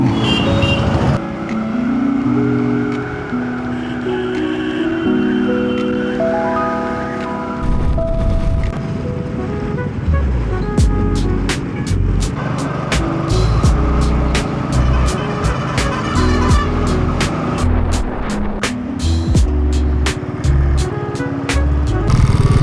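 Congested road traffic on the route back to Delhi toward Haridwar, with cars, trucks and motorcycles idling and creeping, engines rumbling close and steady, punctuated by a rapid series of horn honks and beeps through the second half.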